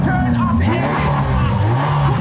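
A car engine revs loudly and close, its pitch rising and falling in a sustained roar with no pauses.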